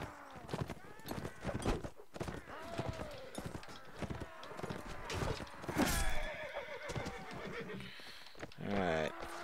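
Horses neigh and whinny repeatedly over busy clip-clopping hooves during a mounted battle in Mount and Blade: Warband, with clashing game action and a voice talking over it.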